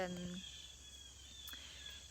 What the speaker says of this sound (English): I'm sitting outside. I'm sure you can see that and just hear the birds, hear the crickets.